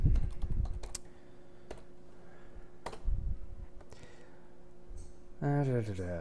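A search is typed on a computer keyboard, a scattered run of close, sharp key clicks with gaps between them, and a voice speaks briefly at the end.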